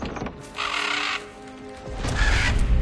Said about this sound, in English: Blue-eyed Raven is outside.